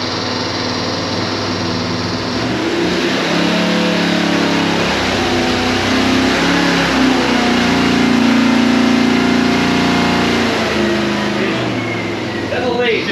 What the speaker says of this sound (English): So you've seen that pull and we had to abort because we were, it could hardly pull through the dyno